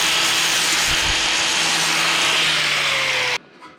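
A power tool grinding down the top edge of a weld, a loud continuous abrasive whir with a steady tone that runs evenly for over three seconds, then cuts off abruptly.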